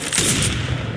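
A CS:GO flashbang grenade goes off in one loud, short burst with a bright, hissing ringing tail that dies away within about a second.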